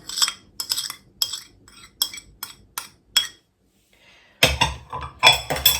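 A spoon clinks and scrapes rhythmically in a bowl of whole-grain bread dough mixed with melted butter. About a dozen quick strokes are followed by a pause, then a louder burst of close mixing.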